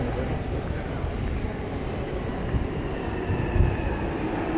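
A London Underground Jubilee line train at an eastbound platform, heard as a loud, steady low rumble and whir of rolling stock that swells slightly near the end, close by and without talk.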